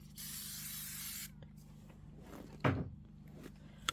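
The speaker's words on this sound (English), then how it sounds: "The whole point of the spray tent is so the aerosol doesn't go all over the place." Aerosol spray adhesive hissing inside a spray tent for quilting, one steady burst lasting about a second, followed by soft handling thumps and a sharper knock.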